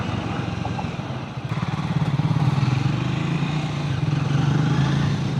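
A Triumph motorcycle rides along the Kalyani Expressway, its engine giving a steady, loud, close throbbing drone that swells slightly as it accelerates, with wind rush over the top and no voices.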